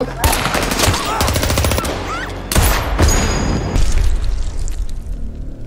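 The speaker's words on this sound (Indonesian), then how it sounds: "Chop mulai menembaki mereka satu persatu dengan dingin" Rapid bursts of automatic gunfire and heavy booms in a chaotic film shootout, loud and close, with several volleys separated by brief pauses.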